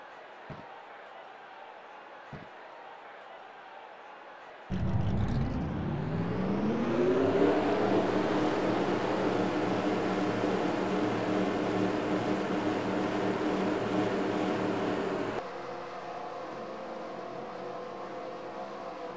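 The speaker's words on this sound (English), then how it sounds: "Drivers, start your engines!" Stock car engines in a racing video game at Talladega fire up together after a quiet stretch, swelling into a loud, sustained roar of revving before dropping to a lower idle drone.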